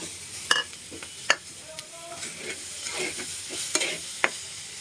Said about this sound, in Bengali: মসুরের ডাল এখন ভালো করে নেড়ে চেড়ে দিব ভেজে নেব ভালো করে